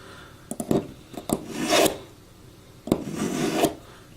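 A knife blade is drawn across a sharpening stone with light pressure in several short raspy strokes, a few quick scrapes followed by longer sweeps, close and fairly soft.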